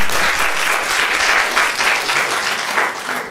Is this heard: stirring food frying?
no